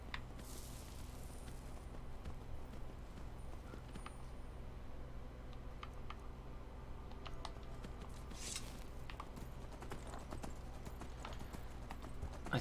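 Faint, steady clip-clop of horse hooves at a walking pace in the video game Skyrim continues throughout, quiet and even.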